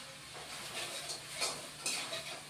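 Red chili powder sizzles faintly in a pan for a yardlong bean dish, with soft stirring scrapes rising and falling and a sharp utensil clink at the very end.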